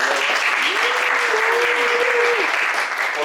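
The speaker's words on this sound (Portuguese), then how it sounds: "Uma salva de palmas pra ela." Loud, dense audience applause for a performer at a talk, steady close clapping filling the whole stretch, with a brief sung or voiced tone rising over it in the middle.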